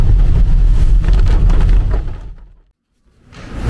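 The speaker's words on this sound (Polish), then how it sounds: "Jest ulewa" Heavy rain pours down in a dense, roaring downpour outdoors, loud and steady for a couple of seconds before briefly fading out and returning.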